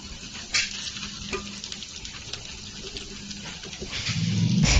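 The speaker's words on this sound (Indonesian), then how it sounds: "jika udah panas langsung aja dimasukkan cirengnya, dan ini kita goreng sampai agak berkulit" Cireng, tapioca snacks, fry in hot oil in a wok with a steady, close sizzle and bubbling, broken by occasional stirring scrapes and growing louder toward the end; nobody speaks.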